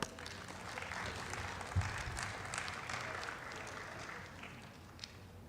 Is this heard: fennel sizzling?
no